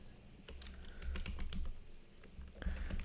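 Someone types a date on a computer keyboard in steady bursts of crisp, close key clicks, with brief pauses between groups of strokes and no talking.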